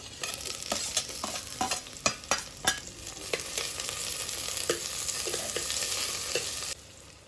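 Onion and tomato fry in a pan for a Mangalore-style prawn and greens curry, giving a steady bright sizzle broken by repeated sharp scrapes and clacks of the stirring spoon, close and loud throughout.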